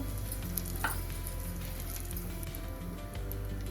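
Cumin, mustard seeds and asafoetida sizzle in hot oil with a steady crackling hiss, close and continuous, with occasional small pops and no talk.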